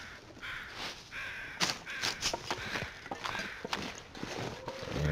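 Crows cawing in the snowy wilderness of the survival game The Long Dark, several harsh caws at moderate distance mixed with crunching footsteps through snow.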